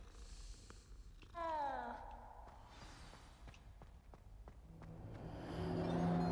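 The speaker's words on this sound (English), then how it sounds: "Oh, a cat. I want to pet the cat." A cat in the Hogwarts Legacy video game gives a brief falling meow amid soft ambient game sounds and light footsteps, fairly faint and alone without talk.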